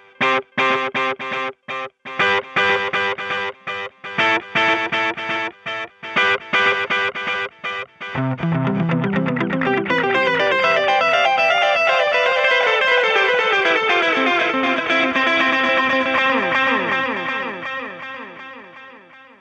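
Electric guitar through a JHS Double Barrel overdrive and Boss DD500 delay plays choppy staccato notes, then a held phrase smeared by repeating delay echoes that wash on and gradually decay.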